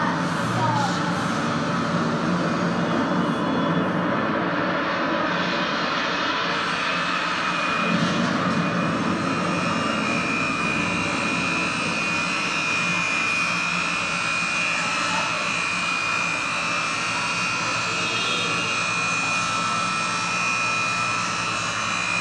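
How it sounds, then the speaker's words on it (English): Steady engine roar inside an airplane in flight, a continuous broadband drone with a faint high whine, unchanging throughout and with no talk. "And here's a video clip of his flight back."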